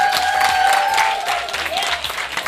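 An audience applauds an award recipient at a horticultural society women-in-agriculture event: dense, steady clapping from a crowd fills the hall, with a faint tone underneath and no speech.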